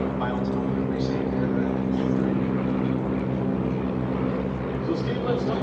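Chipmunk trainer airplanes flying in formation at an airshow, a continuous droning propeller engine hum from a group of four aircraft, steady and fairly loud for several seconds.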